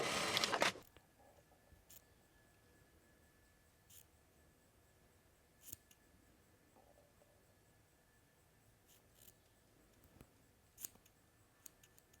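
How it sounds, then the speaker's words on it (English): Scissors snip through the fabric seam allowance of a pair of pants, clipping toward pivoted stitches at the bottom of the strap. One loud, close burst of cutting comes first, then near-quiet with a few faint clicks. "you're also going to want to clip towards where you pivoted your stitches at the bottom of the strap"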